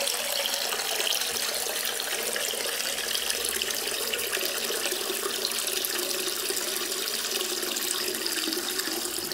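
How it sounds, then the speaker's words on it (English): Water runs from a cold tap into a sink, a steady splashing rush that stays even and close for several seconds, with no talking. "So, first, I'm going to fill the sink with water."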